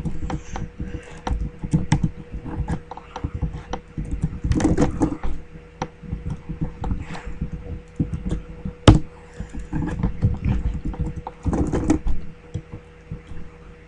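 Fingers type HTML header tags on a computer keyboard in irregular bursts of close, crisp key clicks, with short pauses and one louder thump partway through.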